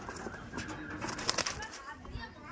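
Andhra breed pigeons in a loft coo faintly with low, soft murmurs and occasional rustling, while people talk nearby.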